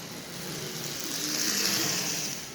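Faint, steady whir of a Marx toy train locomotive motor running on the bench, a unit taken from a 1666 engine with a traction tire on one wheel. The hum is low and even and swells slightly midway.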